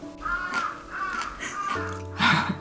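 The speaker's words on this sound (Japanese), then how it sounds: "カラスくんがすごいね。 寒いのに元気だね。" A crow caws outdoors on a cold day, giving several harsh, fairly loud calls in an uneven series while people talk quietly nearby.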